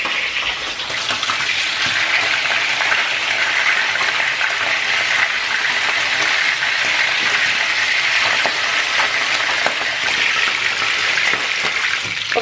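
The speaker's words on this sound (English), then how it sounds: "we're going to let our fish cook on both sides to make it golden brown" Fish fries in hot oil for Jamaican escovitch, making a loud, dense, continuous crackling sizzle close by with no pause and no voices.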